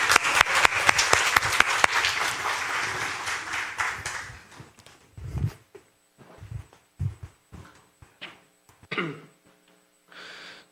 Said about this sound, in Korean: 박수로 우리 환영하겠습니다.